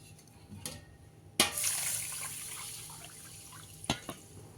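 Rice and moong dal are washed in water for kichdi, with soft sloshing and splashing, a sharper pour of water midway that fades out, then a couple of light splashes near the end, all faint and quiet.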